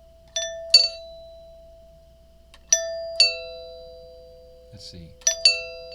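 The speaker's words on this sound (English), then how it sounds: "It's going to go ding-dong, 2 different pitches." An old-fashioned magnetic doorbell rings ding-dong three times, each a pair of bright struck tones on two pitches with long sustained rings, near and loud; someone speaks briefly between the second and third rings.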